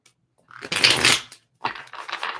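A deck of tarot cards is riffled in two short, crisp bursts separated by a brief pause, close and loud with no talk.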